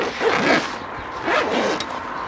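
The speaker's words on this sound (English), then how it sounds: "Zip the bag up." A bag holding a rested smoked pork shoulder is zipped shut in two quick, close rasping strokes, each under a second, with no talking.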